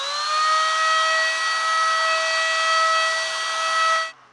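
A cordless 20V brushless paint sprayer gun spraying paint gives a steady high-pitched whine with a hissy airflow, loud and continuous for about four seconds before cutting off abruptly.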